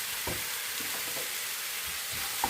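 Chopped parsley stirred through a sizzling pan while making Turkish pide pizza, a constant frying hiss with soft scraping stir strokes and a small clink near the end.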